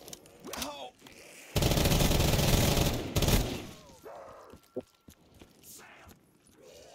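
A light machine gun fires in sustained bursts in a Call of Duty custom zombies match, loud rapid fire for about two seconds, then a shorter burst, with scattered thuds and game effects around it.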